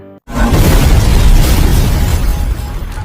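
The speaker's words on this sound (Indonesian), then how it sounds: "Terlihat Pak Dikopet akan meledak" A sudden loud explosion bursts out after a brief silence as a burning house in a film blows up, then a heavy rumbling roar that stays dense and sustained before slowly easing.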